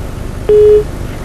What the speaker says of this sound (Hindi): फोन लाइन डिस्कनेक्ट हुई है उनकी